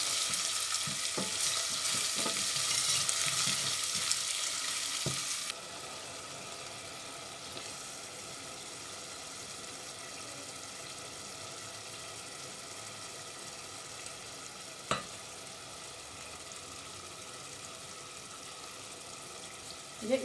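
Ginger garlic paste frying in a pan: a strong, close sizzle for about five seconds, then a quieter, steady hiss with an occasional light clink or scrape.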